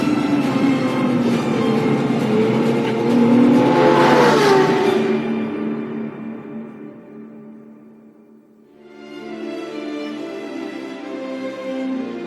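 Ferrari LaFerrari hybrid supercar engine revs hard and loud, its pitch climbing to a high scream before cutting off abruptly, then after a moment of quiet the engine picks up again at a lower, steady drone.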